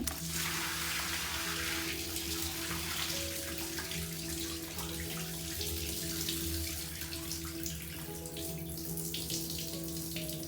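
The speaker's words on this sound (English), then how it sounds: "I'm going to be rinsing this just until the water runs clear." Water pours steadily from a tap into a sink while dyed yarn is rinsed, a continuous close splashing stream with occasional shifts as the yarn is moved under the flow.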